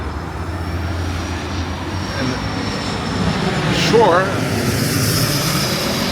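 A jet airplane near Westchester County Airport roars past overhead, its engine swelling to a peak and fading over steady road noise inside a moving BMW F80 M3, with brief talk.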